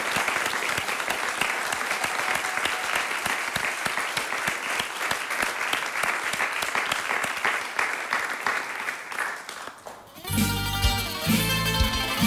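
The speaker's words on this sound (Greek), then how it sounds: "Νομίζω τα παιδιά αξίζουν ένα ωραίο, γεμάτο, θερμό χειροκρότημα." Sustained, dense applause from a large audience fills most of the clip, then gives way abruptly to loud music in the final seconds.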